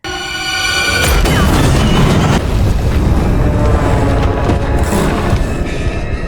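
A loud, sudden boom from an oxygen tank explosion bursts out and rolls into a sustained rumbling roar with crashing debris, filling the space for several seconds.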